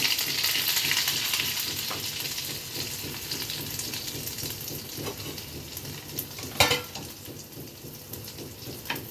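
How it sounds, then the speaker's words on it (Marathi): Cabbage, capsicum and spring onion fry in a pan with a steady hiss and crackle, one sharper clatter of the utensil near the middle, and no voices. "आणि आपल्याला ह्या हलक्या भाज्या फ्राय करून घ्यायच्या."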